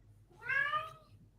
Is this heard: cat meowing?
yes